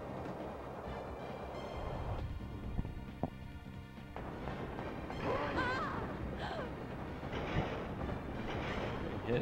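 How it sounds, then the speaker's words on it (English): Train in the Skies of Arcadia video game, a rumbling rail roar with clattering wheels and a few sharp knocks, shifting and squealing as it continues at fairly close range. "We're getting hit in the back by another train, and Galaxy has jumped on the arc."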